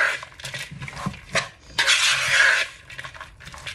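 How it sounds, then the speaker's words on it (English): Coleslaw dressing is mixed in a bowl, with irregular clinks and scrapes of a utensil against the bowl and a brief louder stirring swish, close and fairly quiet, with no talk. "I'm going to start out by putting about half of this in there and just mix it together"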